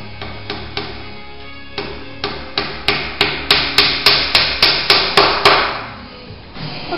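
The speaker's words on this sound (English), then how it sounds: "I'm just flattening them out using my dolly and my dolly hammer and my anvil" Dolly hammer flattening cut copper round plugs against a dolly on an anvil: a steady run of about a dozen sharp, ringing metallic strikes, close and loud, quickening in the middle before stopping.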